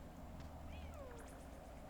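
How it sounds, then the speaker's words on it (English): Caged cats in the video game Animal Well call out with a faint, brief sliding meow and a couple of tiny chirps over a constant low hum, distant and quiet. "The kitty cats, they're trapped in cages. They're calling out."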